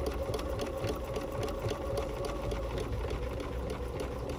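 A sewing machine runs an outline stitch around a fabric butterfly for a quilted basket, its motor humming in a steady, fast, even rattle of needle strokes, close and moderately quiet, with no voices.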